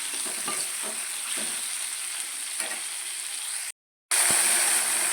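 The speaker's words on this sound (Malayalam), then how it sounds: "ഇടയ്ക്കിടയ്ക്ക് ഇങ്ങനെ ഇളക്കി കൊടുത്തുകൊണ്ട്" Tomatoes cook in a pan over a low flame with a continuous bright sizzle and soft stirring scrapes, broken by a brief silent gap before the frying resumes, no one speaking.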